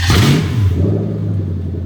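A car engine being cranked by its starter motor during a starter circuit test on an IS200 fitted with a plug-and-play Alvaro SC unit, giving a loud, steady, low whirring rumble close by that holds for nearly two seconds.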